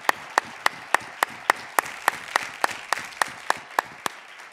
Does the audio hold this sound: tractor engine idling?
no